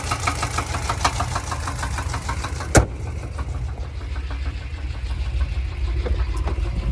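A car engine runs steadily on a short drive, with a rhythmic ticking from the rocker area riding over the mid-pitched hum. One sharp knock cuts in partway through, then the engine settles into a smoother drone.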